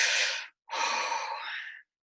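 Two forceful breaths of a bellows breathing exercise, a sharp rushing inhale or exhale followed after a brief pause by a longer airy breath, close and alone with no talk.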